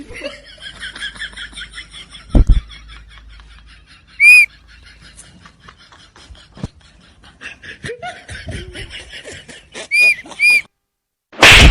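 Someone whistles in a few short, sharp bursts amid laughter and chuckling in a rural comedy scene, the bright whistles standing out above the giggles.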